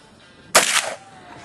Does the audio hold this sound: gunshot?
yes